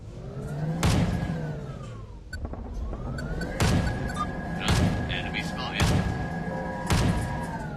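In VTOL VR with mechs, a cannon fires in heavy, booming blasts spaced about a second apart over a steady aircraft engine drone, loud and close, with some talking mixed in.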